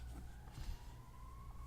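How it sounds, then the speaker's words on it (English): Sirens wail faintly outside, a thin rising tone held behind a low rumbling room hum, distant and quiet, with no talking. "I'm mindful that the sirens are still going"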